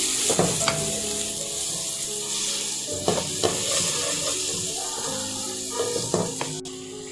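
Fish masala with red chili powder sautéing in a pan with garlic and ginger, a steady sizzle broken by several sharp stirring scrapes, close and fairly loud with no talking.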